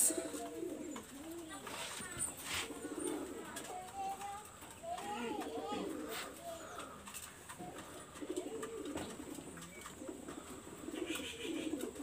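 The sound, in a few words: female Kamagar high-flyer pigeon cooing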